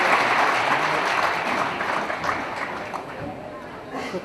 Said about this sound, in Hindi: एक बार समूचा सदन दोनों हाथ ऊपर उठाकर तालियां बजाकर भाई गोविंद स्वागत है